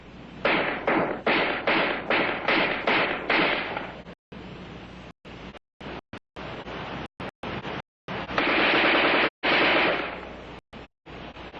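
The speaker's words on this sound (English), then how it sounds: "In offhand firing against a man-sized target at combat range, the AR-10 is in a class by itself." Armalite AR-10 rifle firing, a rapid series of sharp cracking shots at first, then scattered single shots and another quick string, loud and distinct with brief silent cuts between.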